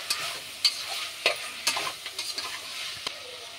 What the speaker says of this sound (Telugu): ఇంకా ఇందులోనే కొద్దిగా కొత్తిమీర కూడా వేసుకొని ఇంకా ఫ్రై చేయాలి.